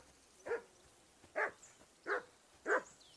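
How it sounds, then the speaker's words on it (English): A dog barks in the Kingdom Come Deliverance II video game, four sharp separate barks at a steady spacing, fairly close and clear over a quiet background with no talking. "Whistle at that mutt of yours to stop barking"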